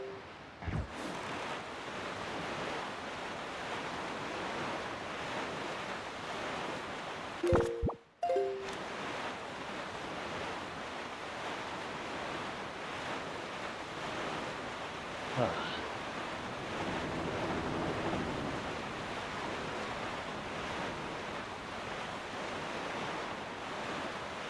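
Steady ocean surf and wind wash continuously while sailing a small boat across the sea in The Legend of Zelda: The Wind Waker, with a brief dip and occasional soft chimes and splashes.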